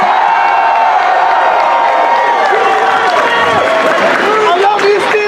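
A large outdoor rally crowd claps and cheers loudly and continuously, with whoops and shouts rising over the dense roar.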